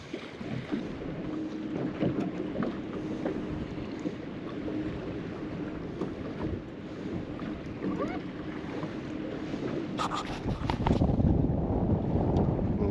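Strong wind blowing steadily at sea beside a boat off Ningaloo Reef, a constant loud rushing roar with microphone buffeting that swells toward the end.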